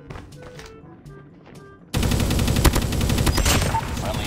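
Sustained automatic bursts from a Kilo 141 assault rifle in a video game, loud and rapid, starting abruptly after a quieter stretch of game sounds and continuing to the end.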